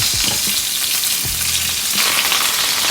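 Tuna steak sizzles in hot oil in a pan, with a steady close-up frying hiss and crackle and a few soft scraping bursts as the oil is worked around.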